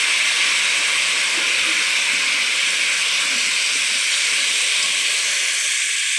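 Vegetables hit hot oil and crushed garlic after cumin seeds have been fried, giving a loud, continuous, close hissing sizzle that stays even throughout.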